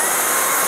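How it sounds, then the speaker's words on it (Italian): A powerful touch-controlled vacuum cleaner runs with a loud, steady, close whooshing roar for a brief moment. "Ma raga, ma quanto è figo questo aspirapolvere?"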